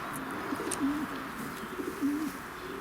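A racing pigeon coos twice, each a short low rolling call, close and fairly soft against a quiet background.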